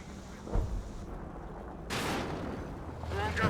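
Artillery in the Company of Heroes 2 strategy game booms with several sharp blasts and a rumbling burst. These impacts punctuate a busy battle background, with a voice talking over the action.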